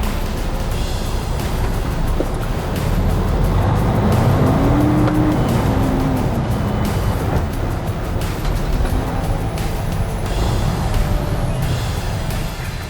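A big truck runs on tires across a wet test surface at about 50 mph, giving a loud, sustained roar of engine and road noise with steady water hiss and a rising, falling engine tone.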